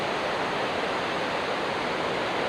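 Continuous loud rush of rainy-season water pouring over Salandi Dam at Hadagarh, Keonjhar, a dense, even roar with no pauses or voices.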